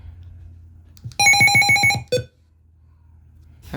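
A loud electronic alert tone from a Midland HH54 handheld radio rings out in a fast warbling burst, then one short final beep, standing out against a faint low hum.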